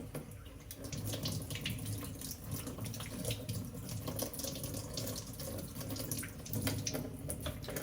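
Tap water runs steadily into a sink while a gold Rolex watch with its clasp open is rinsed beneath it, a continuous close splashing hiss with faint drips and no talking.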